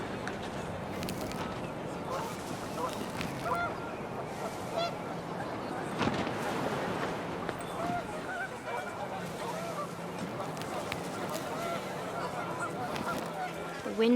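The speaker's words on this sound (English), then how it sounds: "panicked geese appeared and quickly went" Panicked geese honk over steady wind in a video game scene, a dense, continuous chorus of calls that goes on for the whole stretch, with a voice talking faintly underneath.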